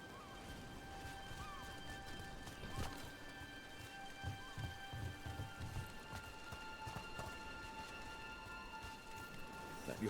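Steady, soft rain patters in a Dragon Age: The Veilguard game scene. The faint hiss is broken by scattered drips and thuds, and quiet tonal music runs beneath it.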